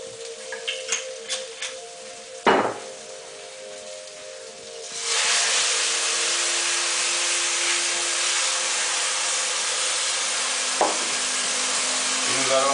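White wine pours into a pan of porcini mushroom risotto and bursts into a loud, steady hiss of sizzling steam that lasts to the end, after a few quieter stirring clinks and scrapes.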